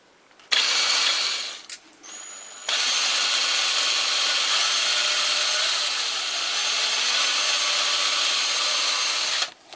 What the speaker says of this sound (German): das mache ich mir jetzt zunutze und bohre einfach mal ein Loch hinein